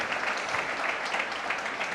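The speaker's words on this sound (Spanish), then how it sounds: "Démosle ese aplauso al Señor." A church congregation claps together in sustained, dense applause, steady and fairly loud throughout with no pauses.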